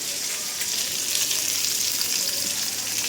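Bitter gourd (uchhe) fries with black cumin (kalojira) in a home kitchen, making a steady bright sizzle that stays close and loud, with only faint shifting as the pieces are moved and no talk.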